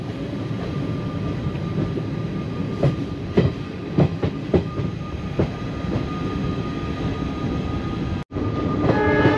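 An intercity express train rumbles along steadily with rhythmic clicks from the rails, heard from on board near Kambanaghatta station; a sustained horn tone sounds near the end.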